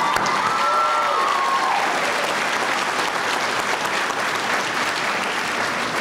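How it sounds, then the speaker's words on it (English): Sustained audience applause at a college graduation ceremony, broad and even throughout, with a brief high tone near the start. "Join me in giving them a round of applause."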